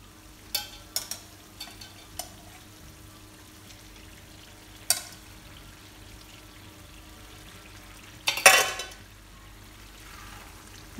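Fried squid being stirred into sambal in a pan, with a few sharp scrapes and clacks of a utensil against the pan and a louder scraping flurry near the end over a quiet sizzle.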